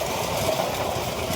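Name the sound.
tractor engine running a rotavator in a field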